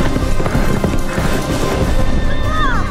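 Horses gallop in a film battle scene from Gladiator (2000), with loud pounding hooves and crashing impacts amid chaotic noise and a brief high whinny-like cry near the end.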